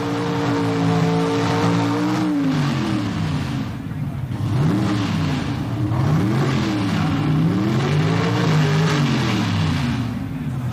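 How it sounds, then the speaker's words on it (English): A Pro Stock drag car at the 1977 NHRA Summernationals revving in the burnout area to warm its tires, a loud engine whose pitch rises and falls in repeated sweeps, with crowd and track noise behind. "The next stop for our Pro Stock driver is in the burnout area, where he'll heat, warm the tires"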